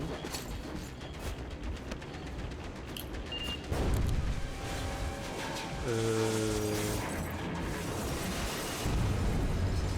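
An explosion rumbles in the video game Metro Exodus: a dense, noisy blast surges partway through, followed by sustained rumbling and ringing tones at a steady, loud level.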